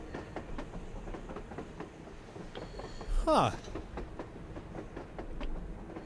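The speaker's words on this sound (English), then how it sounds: "A damn train on the surface!" A train rolling across the surface in the video game Metro Exodus, a steady rattling clatter of wheels with a louder rushing swell in the middle and a brief murmur of voice.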